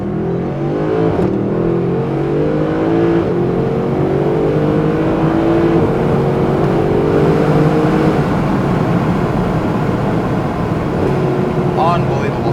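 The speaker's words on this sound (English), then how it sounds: "this car sounds unbelievable" A Mercedes-Benz SLS AMG Black Series front-mounted V8 roars close by, its pitch sweeping upward under acceleration before easing off, with someone talking over parts of it.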